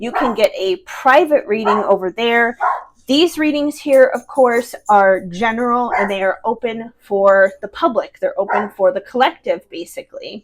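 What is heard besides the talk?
small dog barking in the background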